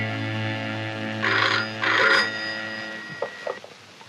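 A telephone rings in a Malayalam movie scene, a sustained electric bell trill in two loud bursts over a low steady hum, followed by faint clicks as the receiver is handled.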